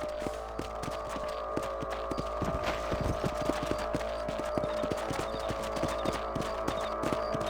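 Horse hooves clip-clop in a steady walking rhythm in the Red Dead Redemption video game, a continuous close train of hoofbeats over a constant background hum, with no talking.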